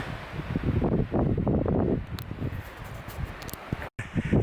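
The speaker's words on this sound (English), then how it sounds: "the views are endless up here, but the wind's crazy" Strong wind gusting across an exposed mountain summit on Table Mountain in New Hampshire, a loud rumbling roar buffeting the microphone in waves with brief dropouts, no voices.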